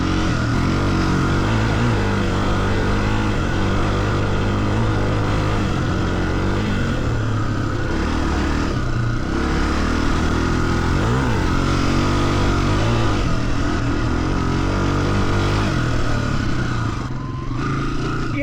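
Honda CRF300F motorcycle engine lugging along in too high a gear, a steady low thrum with a slight rev swell near the middle, continuous and close with no talk.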